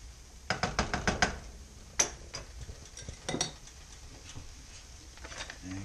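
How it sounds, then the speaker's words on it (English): Shrimp being turned in a pan with capers added, heard as a quick run of sharp utensil knocks and taps against cookware, followed by a few scattered clinks and scrapes at moderate loudness. "turn shrimp over and add capers"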